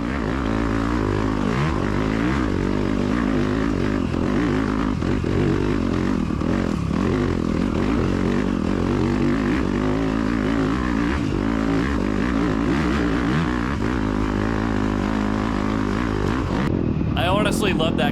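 A Yamaha YZ250FX dirt bike engine revs hard and continuously as it climbs a long rocky uphill section during a SORCS off-road race, the loud throttle rising and falling with the terrain before ending abruptly.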